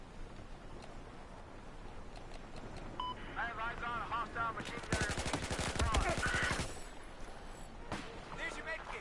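Rapid automatic gunfire in Battlefield 4 rattles in a dense burst near the middle, joined by scattered shots and game effects, with voice chatter heard before and after.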